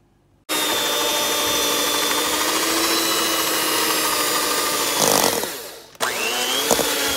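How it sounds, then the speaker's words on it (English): An electric whisk beats room-temperature cream cheese for a cheesecake filling, a loud, steady whirring drone that runs continuously, briefly shifts near the end, then resumes. "I'm gonna just whisk it up a little and then add my sugar."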